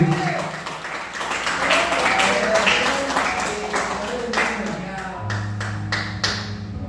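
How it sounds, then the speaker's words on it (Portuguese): Church congregation clapping during a service, a rolling wash of palms with scattered sharper claps and some voices, settling into a few distinct isolated claps near the end. "Dê uma salva de palmas para Jesus."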